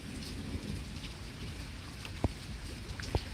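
Steady rain falls during a severe thunderstorm in Pittsburg, Kansas, with a low rumble of thunder underneath and a couple of sharp drip or crack transients. Moderately quiet and continuous, with no talking.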